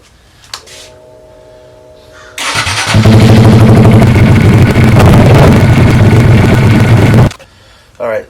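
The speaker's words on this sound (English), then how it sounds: "you got to run the engine for a little bit" A 2022 Honda Grom SP motorcycle engine cranks and starts after a brief whine, then idles loudly and steadily up close for several seconds before cutting off.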